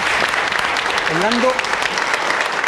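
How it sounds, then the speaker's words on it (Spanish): A studio audience on a television health show breaks into brief applause, a short burst of clapping heard under a host's voice as he speaks. "Un aplauso para Mirta."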